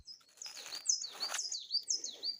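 Small birds chirp and tweet in autumn woods in quick, high, thin notes, fairly faint, with a short series of calls repeating.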